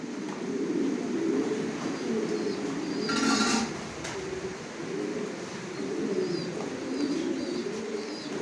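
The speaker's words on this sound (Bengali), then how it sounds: "কোয়ালিটি সম্পন্ন কবুতর পালি" Racing pigeons in a multi-storey breeding loft coo in low, rolling waves that rise and fall continuously, with a brief hiss breaking in near the middle.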